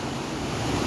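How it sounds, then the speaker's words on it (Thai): A fast, strongly flowing river rushes in a continuous, loud, broadband roar with no breaks or voices. "น้ำไหลแรงมากนะคะทุกคน"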